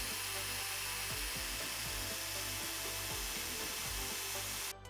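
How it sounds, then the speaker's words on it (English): Drill boring out the rivets of a four-digit combination lock case clamped in a vise in a garage, a steady continuous grinding whir with rhythmic catches as the bit bites, loud and close throughout. "put the lock in a vise, and started drilling them out to see if we were right"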